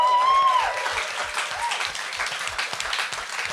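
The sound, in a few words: live audience applauding the backstage crew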